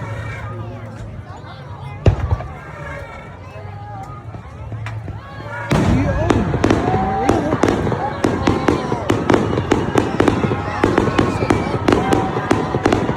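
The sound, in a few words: fireworks exploding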